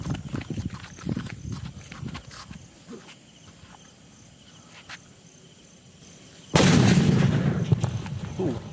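A kabase firecracker bursts with a sudden loud blast that leaves a sustained roar of crackling noise after a quieter stretch of scattered outdoor sounds and insect chirps.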